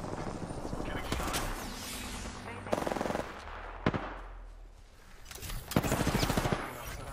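Bursts of automatic gunfire in a Bloodhound battle royale video game, with rapid machine-gun volleys, single sharp shots and short pauses, loud and close against game ambience.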